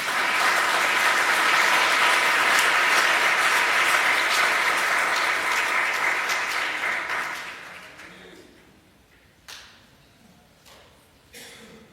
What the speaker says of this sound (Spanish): ¿Usted cree que Dios merece un aplauso,